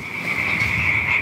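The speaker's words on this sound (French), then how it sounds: "Écoute les grenouilles." A dense chorus of frogs croaking and trilling together, loud and continuous like a night pond nearby.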